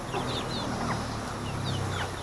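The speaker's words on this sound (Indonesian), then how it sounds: "banyak ayam ini teman-teman." Chickens clucking on a rural Indonesian homestead where cassava scraps are fed to them, scattered short chirpy calls over a dense noisy outdoor background, moderately distant and continuous, no one talking.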